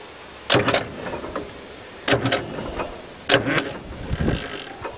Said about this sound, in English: move the flywheel, I just hit the starter button a little bit every time